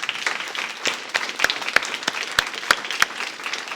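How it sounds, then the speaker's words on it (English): An audience claps for the presenters at the close of a talk event, a dense patter of applause with a few sharp, close individual claps standing out. "Give our presenters one last round of applause."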